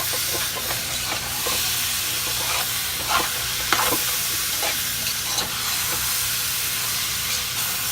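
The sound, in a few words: stirring seasoning into sizzling Liberian collard greens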